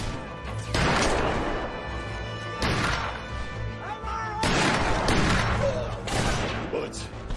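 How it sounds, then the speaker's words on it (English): Gunfire from a film scene set during a rooftop escape, with several loud sharp bursts a second or two apart and crashing impacts between them, amid shouting and other film sound. "Bullets."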